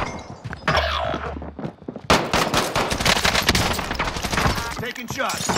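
Rapid automatic gunfire from a video game shootout cracks out in dense, loud bursts, a brief thump and pause early, then continuous rattling fire to the end.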